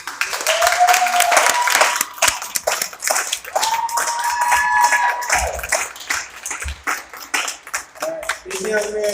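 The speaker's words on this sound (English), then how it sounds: "A round of applause for Donald Griffin." Crowd applause at a community awards celebration, bursts of clapping mixed with cheering voices and whoops, loud and close, rising and falling over several seconds.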